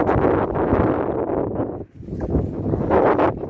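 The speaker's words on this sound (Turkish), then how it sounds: "rüzgar da var biraz" Strong wind buffets the microphone in a continuous, loud, low rumble with gusts that briefly drop off and return.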